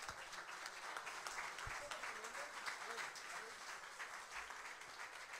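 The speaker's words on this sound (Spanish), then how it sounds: "Un aplauso, por favor." Audience applause at a drum competition in Jujuy, a steady dense wash of clapping that continues throughout with faint voices mixed in.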